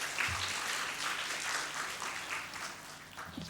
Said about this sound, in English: A big round of applause once again for T cell staff.